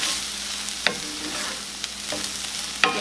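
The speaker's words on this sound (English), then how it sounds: "add in my flour. Give that a little mix" Flour being stirred into ground beef in a frying pan: a steady, soft sizzle with a few sharp scrapes of the utensil against the pan, no talking.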